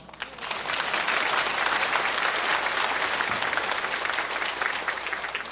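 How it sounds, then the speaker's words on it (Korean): Congregation at a Korean church service breaks into applause during a sermon, a quick swell into a full, sustained roar of clapping from a large crowd that holds steady throughout. "박수."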